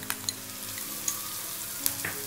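Onions with turmeric fry in a pan for bharwa baingan, a constant close sizzle with a few light clicks of a spoon against the pan and no talking.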